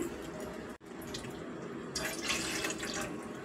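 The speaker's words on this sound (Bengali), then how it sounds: "আমাকে এখানে 2 কাপ জল দিতে হবে" Water pouring steadily into a pot for sugar syrup, a close continuous splashing stream that briefly cuts off and then resumes brighter and fuller.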